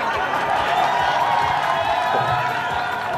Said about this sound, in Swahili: Wameshangilia, hawajui kwamba wao ndio wenye njaa sana kuliko nyie.